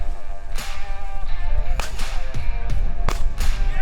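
Several sharp shotgun cracks ring out at irregular intervals over a steady background of music, from bird hunting for partridge and rooster on the prairie.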